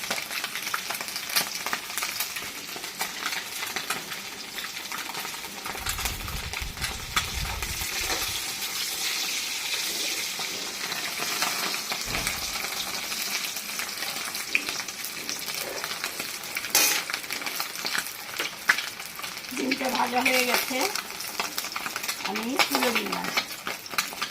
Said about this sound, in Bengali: ডিম ভাজা তেলের মধ্যে আর একটু আমি তেল দিলাম